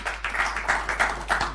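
An audience at a live government question session claps in a brief burst of dense, overlapping hand claps, fairly close and steady throughout.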